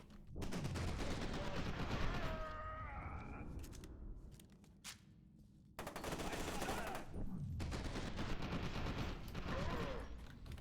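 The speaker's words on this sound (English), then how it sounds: "It's hard to shoot while driving at the same time." Rapid gunfire bursts from a vehicle being driven in F.E.A.R. 2: Project Origin, loud and close, crackling in dense volleys with a pause midway before firing resumes under engine and game noise.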